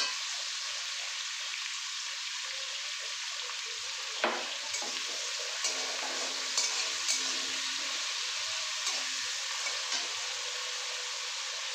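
Egg chicken tadka fries steadily in a pan with a continuous bright sizzle, broken by a few light scrapes and taps of stirring, close and even throughout.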